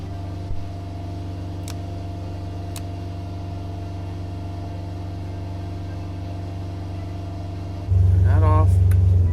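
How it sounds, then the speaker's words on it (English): A boat's onboard generator running under load as air conditioning switches on: a steady low engine drone throughout, jumping to a louder, heavier hum near the end, with brief speech over it. "So now the generator is now on."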